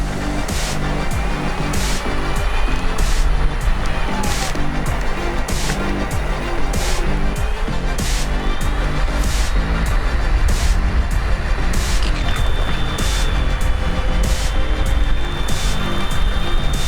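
A motorcycle engine pulling hard up a hill, a loud continuous drone with steady rhythmic pulsing and wind rush throughout, close and unbroken.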